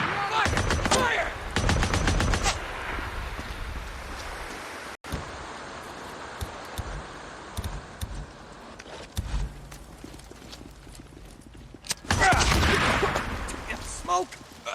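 Bursts of automatic gunfire in the open-world game Days Gone, loud rapid volleys at the start and again near the end, with scattered single shots and a quieter stretch between.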